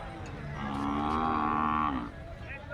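A single long, loud moo from a nearby ox lasts over a second, with faint crowd murmur behind it at the Chadchan cattle fair.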